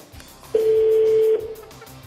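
A telephone sounds a single steady tone, loud and close, for just under a second, with faint background noise before and after.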